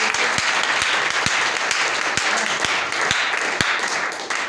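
A church congregation applauds to acclaim the Lord, loud and close, with sustained crowd clapping and a few sharp individual claps standing out at an irregular rhythm.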